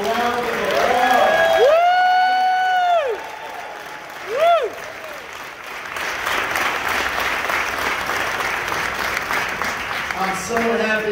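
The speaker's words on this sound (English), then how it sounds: "give them a round of applause." Audience applause and cheering at a city council celebration honoring Black comedians, stand-up comics, actors and producers; strong clapping under a loud whoop or whistle-like cry and a spoken voice early on, dipping briefly, then steady crowd applause continuing.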